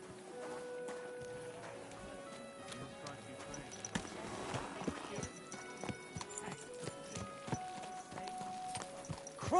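Horse hooves clip-clop steadily on the ground in a medieval game world, mixed with ambient sounds and a sustained musical drone, with occasional low voices in the background.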